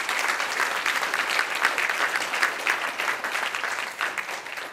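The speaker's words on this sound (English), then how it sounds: "A round of applause." Church congregation at a Sunday vacation Bible school service claps in steady, even applause for several seconds, with no talk over it.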